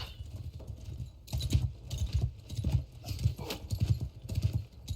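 Steady, rhythmic clip-clop of a saddleless horse's hooves in the modded video game Mount & Blade Bannerlord (Realm of Thrones), repeating in close, even bursts over low battlefield ambience.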